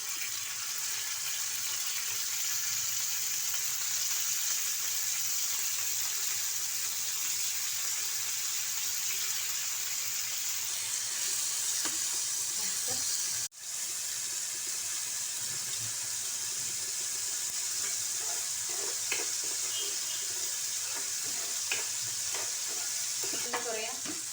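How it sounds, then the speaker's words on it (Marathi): Masala for a surmai fish curry fries and is stirred in oil in a pan, a steady close sizzle with occasional spoon scrapes and one sharp knock partway through. "मसाला तर आपला फ्राय होत आलाय चांगला अजून थोडा परतायचा"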